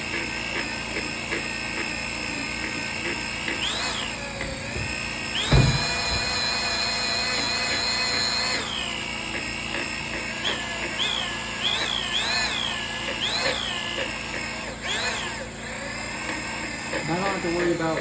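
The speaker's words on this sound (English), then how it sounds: "I don't have to worry about like running the drill along the sides of the bucket or anything" Electric drill with a mixing bit churning liner material in a bucket, a loud whine that revs up and down repeatedly, with a sharp knock partway through and a long sustained high-speed stretch.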